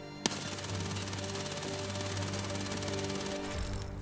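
A high fire rate weapon in Escape from Tarkov fires a dense, rapid burst that opens with a sharp crack and continues as steady close chatter for several seconds.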